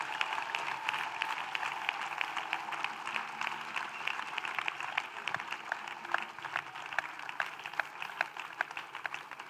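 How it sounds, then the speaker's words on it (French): Steady applause from a church congregation at a revival gathering, continuous crowd clapping that holds at an even level throughout without pause. "Acclamez."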